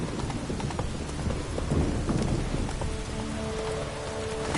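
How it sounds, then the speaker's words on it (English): Horse hooves clip-clopping in The Witcher 3 under steady rain, a continuous close patter of footfalls blended into the downpour. "Whoa there, Roach"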